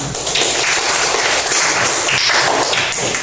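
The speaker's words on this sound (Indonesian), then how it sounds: "kita beri tepuk tangan" Classroom applause during a lesson on family roles, a steady dense wash of many hands clapping at once, loud and continuous with no pauses.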